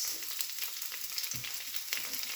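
Chopped onion fries in a pan, giving a faint, steady sizzling hiss with a few soft stirring scrapes, with no voices.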